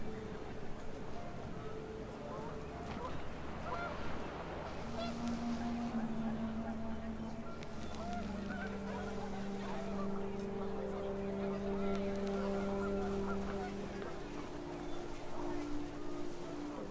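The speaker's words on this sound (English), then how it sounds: "The wind picked up, and panicked geese appeared and quickly went." Panicked geese honking in the game What Remains of Edith Finch: a flock's overlapping nasal honks and cries sound close and continuous against a steady windy rumble.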